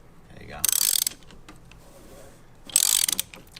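A wrench working loose the oil filter on a Chevy Colorado ZR2, two close bursts of rapid ratcheting clicks separated by a quiet pause with faint handling noises.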